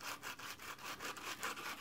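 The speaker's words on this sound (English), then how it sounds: "sometimes it feels like you've been sanding and sanding and sanding" Steady rhythmic rasping of 150-grit sandpaper rubbed by hand back and forth on painted wood, quick even strokes, close up with no voices.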